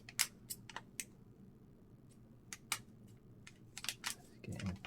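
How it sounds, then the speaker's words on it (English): Scissors snip close by in a quiet room, a handful of short, crisp cuts spaced irregularly over a faint low hum, with a soft rustle of handling at the end. "So pair of scissors, just happen to have a set over here."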